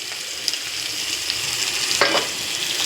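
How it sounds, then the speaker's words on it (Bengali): Chopped onions and potatoes fry in a pan for a Bengali prawn dish, a steady close sizzle with a brief stir or scrape partway through, no talking. "কেটে রাখা পেঁয়াজগুলো দিয়ে দিলাম, একটু ভালো করে ভেজে নিই"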